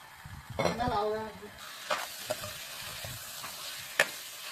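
Marinated chicken stirred in a hot pan for a village-style gongura chicken curry, a sizzle with scraping spatula strokes and a sharp clink, with a voice speaking briefly near the start.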